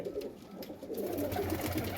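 Pigeons for sale coo softly and repeatedly nearby, low murmuring calls overlapping with faint background noise, in Allahabad.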